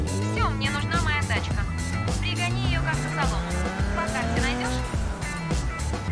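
Nissan 350Z engine in Need for Speed Underground 2, revving with rising pitch and brief tire squeal, set among busy game sound and music, with a voice talking over it.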